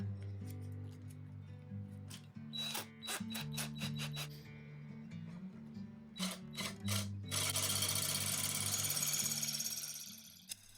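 Wooden dowels being made with a hand dowel-making tool, a loud, near scraping and rasping of wood with repeated short strokes, rising to a sustained grinding rasp near the end, with no talk.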